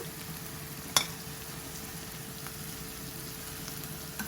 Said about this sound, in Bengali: মশলার লগে মাছটা কষানিয়ে নেব